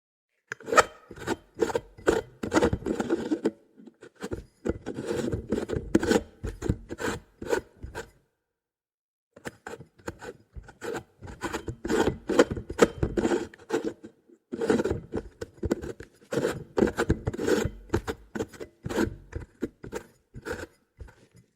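Close, dry rubbing and squeaky friction on a light bulb being handled, in irregular bursts, pausing briefly partway through before the handling noise resumes. No voices.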